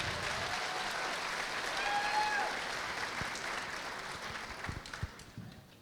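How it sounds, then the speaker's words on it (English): Audience applause at the Maid of Petroleum pageant contest: a sustained wash of many hands clapping in a hall, swelling slightly then gradually thinning out, with a few louder individual claps near the end. "Let's give another round of applause for contestant number 1."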